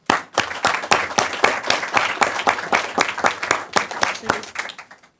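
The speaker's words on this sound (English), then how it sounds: "let's give these new graduates and their volunteer trainers a round of applause" A city council meeting audience in Monrovia applauds new disaster-preparedness graduates and their volunteer trainers: sustained, fairly close clapping from a modest crowd, steady for several seconds before thinning out at the end.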